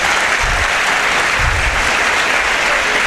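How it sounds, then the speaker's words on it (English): Audience applause for a guest at a girls' school competition event, a dense steady wash of clapping from a crowd lasting the full stretch with no talk over it. "Can you give him a big hand of applause?"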